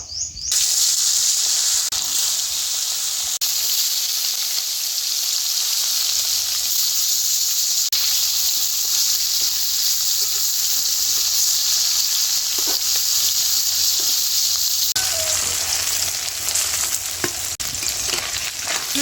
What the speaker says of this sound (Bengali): এইবার মাছগুলো কড়ার মধ্যে দিয়ে ভেজে নেব।